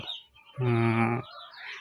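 A single Fayoumi hen gives a short, nasal cluck-like call, close and clear, framed by quieter rustling.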